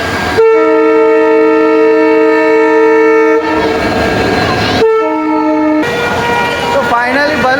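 A train travelling from Baroda to Ranuja in Rajasthan sounds long, loud horn blasts close by, broken by stretches of rumbling carriage noise.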